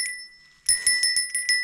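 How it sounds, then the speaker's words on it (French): A small bell carried on a winter hike up Mount Fuji to ward off bears rings out near and clear, one faint ring then five bright strikes in quick rhythmic succession, each decaying briefly. "Et la cloche c'est un moyen efficace de se prémunir des ours."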